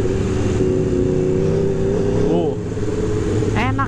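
An Aprilia RSV4 RR motorcycle engine revs hard and loud through first and second gear, a steady up-close roar with a brief dip between shifts, as a person talks over it.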